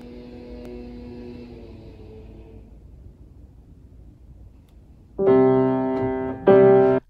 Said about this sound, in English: that was the sound of lawn care maintenance